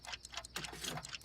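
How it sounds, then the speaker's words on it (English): Alarm clocks tick steadily and quietly in a fast, even rhythm, with no voices. "Then he borrowed alarm clocks from all his friends."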